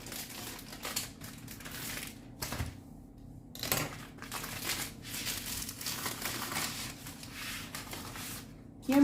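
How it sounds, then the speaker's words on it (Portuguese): Packaging being cut open for an apple tart, a series of crisp crinkling and snipping bursts with short pauses, close and fairly quiet, with no talking. "Deixa eu cortar aqui a embalagem."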